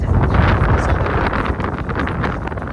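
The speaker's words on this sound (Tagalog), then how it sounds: "Pero may lakas ng hangin" Strong wind on Mount Titlis, Switzerland, buffets the microphone in a steady, loud roar with gusty rumbling throughout.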